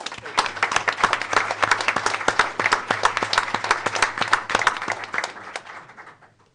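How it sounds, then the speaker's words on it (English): Audience applause for carpentry place winners at a school board of education meeting, steady dense clapping from a room of people that holds for about five seconds and then tapers off. "A round of applause"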